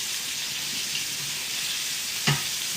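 Small chopped chicken cutlets fry in an oversized skillet with a steady, close hiss of sizzling oil, broken near the end by one brief louder crackle or pop.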